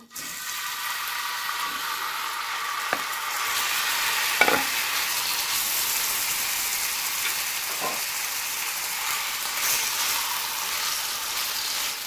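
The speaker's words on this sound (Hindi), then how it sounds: "और अब इसको मैं 5 मिनट के लिए इसी तरह ऑयल में भून लेती हूँ।" Beef pieces fry in oil in a pan for tawa boti, a steady loud sizzle throughout with a few soft knocks from stirring.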